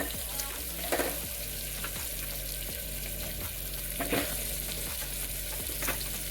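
Tomatoes and chopped vegetables sauté in oil for a wedding-style sambar, a dense steady sizzle with a few louder stirring scrapes scattered through it, close and continuous.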